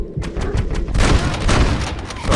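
Gunfire in Red Dead Redemption on Xbox One: a loud, close fusillade of rapid shots and booming reports, tightly packed and continuous, growing heavier in the second half with no voices.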